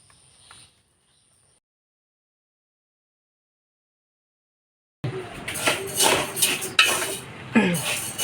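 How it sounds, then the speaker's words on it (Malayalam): Rice dry-roasted in a pan and stirred, heard as close scraping and rattling with metallic clinks of a spoon after a brief quiet stretch. "അതിനായി നമ്മൾ കുറച്ച് അരി വറുത്തെടുക്കുന്നുണ്ട്."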